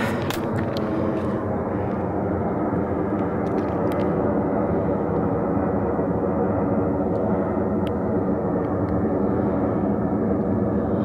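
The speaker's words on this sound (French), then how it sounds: "Ça doit être un avion, un hélicoptère qui fait autant de bruit mais que je ne vois pas." A loud, steady engine roar from an aircraft overhead fills the whole stretch, a constant low rumble with a few faint clicks on top.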